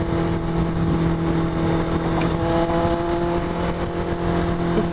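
A car engine accelerating on the road, a steady loud drone with tonal engine hum heard from inside the vehicle throughout.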